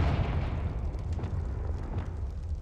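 A fiery Confringo blast spell from Hogwarts Legacy, a deep rumbling roar of flame and explosion lasting a couple of seconds with no talking.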